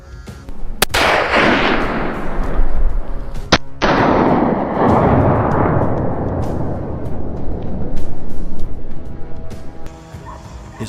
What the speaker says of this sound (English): His rifle was ready, and he precisely tracked the wild boar's movement. With a single shot, the beast collapsed on the spot.